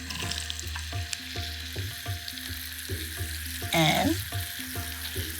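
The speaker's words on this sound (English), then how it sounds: "So I put a little pinch of cumin seeds into the hot oil. You see how they start to sizzle?" Cumin seeds sizzle steadily in hot oil in a pan for Indian home cooking, a continuous frying hiss with a brief louder burst midway while a voice speaks briefly over it.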